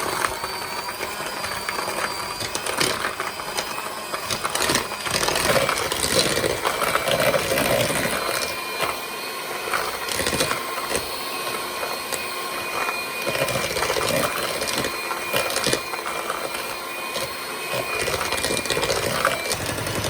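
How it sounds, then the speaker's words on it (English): An electric hand mixer blends butter and sugar for a white chocolate cake, giving a steady, continuous motor whir at moderate loudness with shifting texture, running without a break throughout. "The first step of making a cake is obviously blending the butter and sugar together. We're going to use a hand mixer for that."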